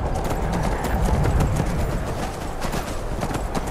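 Horse hooves clip-clop steadily in Skyrim, a continuous rhythmic trotting close by over a dense game soundscape, with no voices.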